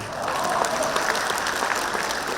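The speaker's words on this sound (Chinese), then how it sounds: "可以给我点回应，给点掌声好吗" An audience at a Chinese liquor product launch applauds, a dense, steady clapping from a moderately sized crowd that holds evenly for a couple of seconds.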